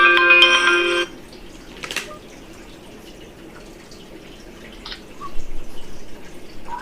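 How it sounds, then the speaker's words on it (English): A phone video call rings with a short tonal ringtone burst at the start, then goes quiet before faint clicks and a louder rustle as the call connects. "my wife is calling me on camera, and I'm actually going to pick up on camera"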